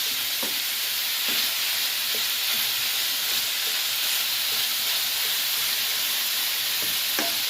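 Ground beef, already seasoned with Maggi, sizzles and fries steadily in a pan, a continuous hiss with occasional soft stirring clicks, close and even throughout, with no talking.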